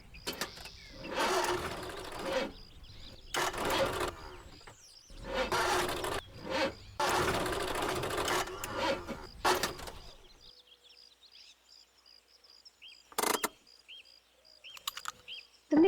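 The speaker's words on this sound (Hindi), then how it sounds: "अरे मैडम, कुछ खराब होने जैसी आवाज आ रही है।" A faulty car engine gives a series of loud, harsh, sputtering bursts with short gaps between them. It then drops to a quieter idle with a few sharp clicks and knocks near the end.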